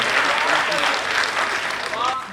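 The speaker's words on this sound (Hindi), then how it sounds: "तालियां बजानी तो जम के बजाओ" Live comedy show audience in India clapping, a dense wash of applause that stays steady and fairly loud for the whole moment, with a voice faintly present underneath.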